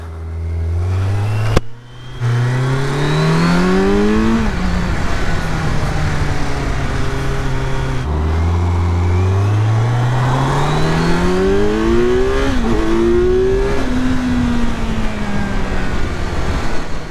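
A naked motorcycle, Yamaha MT-09 or Kawasaki Z900, pulls away with loud, close engine revs climbing through the gears, two strong acceleration runs with shifts between them, no talking.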